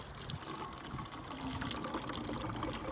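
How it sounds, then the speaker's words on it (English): Water pours steadily into a bottle with a continuous, soft splashing gurgle, no voices, at a moderate distance. "Step 1 is you pour some water into your bottle or cup or whatever."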